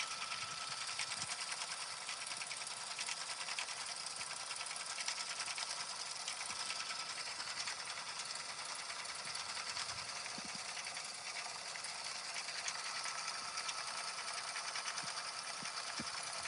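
An embroidery machine stitches the background of a patch, a faint, fast, steady mechanical whir running continuously at low volume with no talk.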